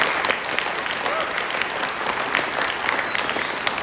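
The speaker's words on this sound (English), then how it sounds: "Give a hand, give a clap please." Applause from a school audience at a cultural event, loud and sustained with many hands clapping at once, a dense, even wash of sound with faint crowd murmur underneath.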